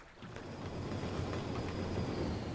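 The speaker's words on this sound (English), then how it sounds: "Lovely trains." Trains rolling through a city in Cities: Skylines, a steady low rumble of rail cars building slightly and holding at moderate volume, with no voices.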